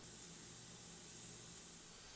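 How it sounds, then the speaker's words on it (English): Steam hisses steadily from a waffle maker held shut over puffy batter, a quiet, continuous broadband rush with no talk. "The steam's trying to force the waffle maker open."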